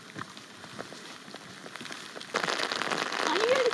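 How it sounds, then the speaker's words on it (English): Rain falls in the Tasmanian wilderness along the Overland Track, a soft patter of drops on surfaces that grows louder and denser partway through, with a brief whistle-like tone near the end. "It started raining on our last day."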